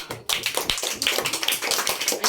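Applause from a classroom audience in a teaching setting, a dense patter of many hands clapping at once that starts sharply after a brief quiet moment and keeps going steadily, fairly close and loud.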